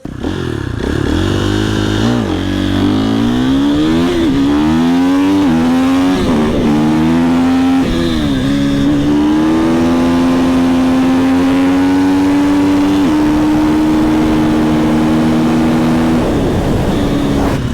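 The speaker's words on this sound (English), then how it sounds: "Guys, the sound of a gas bike" A gas-powered motorcycle engine on a custom bike build revs up and down in rising and falling sweeps, then holds a steady loud drone. It is close and loud throughout, with no talk over it.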